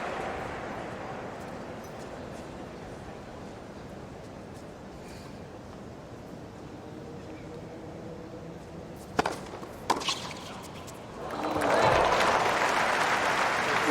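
Crowd applause at the 2024 US Open men's doubles final, a steady murmur with a few sharp claps, then a swelling burst of cheering and clapping near the end, heard under tennis commentary.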